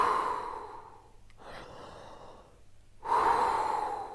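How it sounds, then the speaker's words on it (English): Slow, deliberate breaths, an audible inhale, a pause, then a long exhale, close and alone in a quiet room during a breathing exercise. "if you just breathe in and out"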